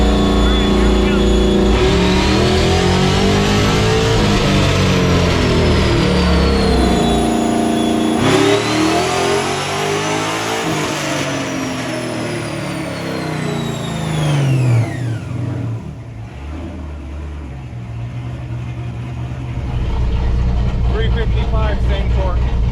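A car on a dyno revs hard in second gear through a stock transmission. The engine climbs loud and close, drops back, and sweeps up again, and a voice talks over it as the roar fades and builds.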